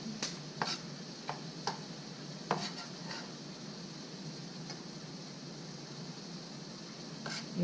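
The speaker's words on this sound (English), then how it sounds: "And give it a little stir." Food with red cabbage and red onions is stirred in a pan, giving a steady soft sizzle broken by a few scattered scrapes and taps early on.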